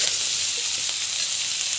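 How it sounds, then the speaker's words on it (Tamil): Onions with asafoetida and rock salt sautéing in a pan give a steady, close sizzle and hiss that runs unbroken throughout, with no voices. "கல்லுப்பு ஆட் பண்ணிட்டு ஜஸ்ட் வந்து வதக்கி வச்சுக்கோங்க"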